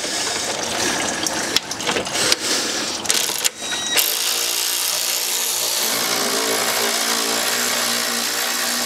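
Screws come out during a BMW radiator replacement: several quick bursts of ratcheting tool clicks close by, then the sound settles into a steady low mechanical hum.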